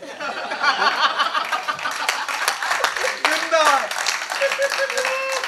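Audience at a Hindi comic poetry show claps in scattered bursts mixed with chuckles and a voice talking over it, fairly close and moderately loud.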